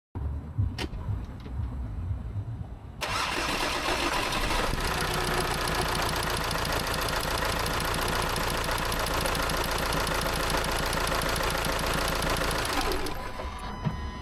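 A VW Crafter diesel engine, just fitted with a new timing belt, cranks and fires up for its first start, then settles into a loud, close, steady rattling idle for about ten seconds before shutting off.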